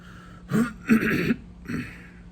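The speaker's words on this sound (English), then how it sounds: "I can't clear the phlegm, like no matter how much I cough" Three bursts of harsh, phlegmy throat clearing and coughing, close and fairly loud, with short pauses between them.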